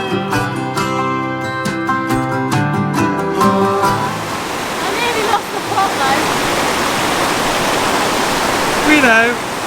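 Fast-flowing water pours over a waterfall in Portugal, a loud dense roar that stays steady and close, with a brief musical passage at the start.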